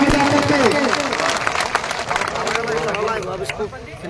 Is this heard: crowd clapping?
yes